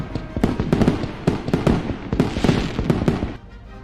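A fireworks sound effect triggered on a live game stream crackles and pops in a rapid, dense burst of sharp bangs lasting several seconds, loud and close with no talk over it.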